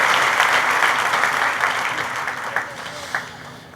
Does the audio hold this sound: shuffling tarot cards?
no